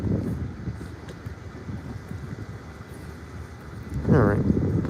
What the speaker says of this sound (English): All right, getting pretty windy.